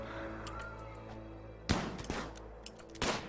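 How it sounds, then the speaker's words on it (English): Chain shotgun firing in Rimworld, two sharp broadband blasts roughly a second apart with a rattling burst trailing the first, set over a steady low game hum. "That guy fires his chain shotgun."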